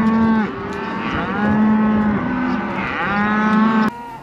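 Cattle on a ranch moo in a series of drawn-out, close calls, about three long lowing moos one after another with short gaps, before an abrupt cut near the end.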